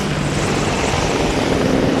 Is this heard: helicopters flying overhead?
yes